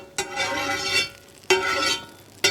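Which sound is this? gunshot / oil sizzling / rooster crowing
oil sizzling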